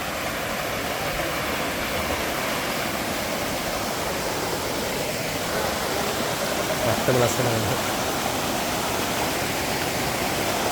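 Nakiyadeniya Ella waterfall pours in a steady, dense roar of rushing water that fills the whole stretch without letup, while a voice speaks briefly over it.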